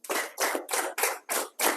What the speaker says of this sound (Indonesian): Tepuk 1 3 kali.